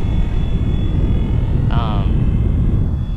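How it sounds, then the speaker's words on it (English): Loud, steady roar of an airplane taking off, with a constant low rumble and a brief higher tone partway through. "got an airplane guy taking off"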